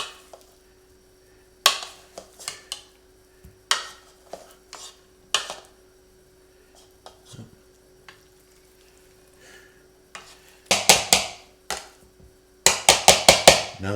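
Boiled potatoes with butter being mashed by hand in a bowl, irregular dull thuds and scraping knocks against the bowl, sparse at first then coming in quicker bursts of repeated strokes, close and clear with no talking.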